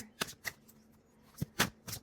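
A deck of tarot cards is shuffled in a few quick, soft riffles and slaps, close and quiet, with short pauses between bursts and no talking.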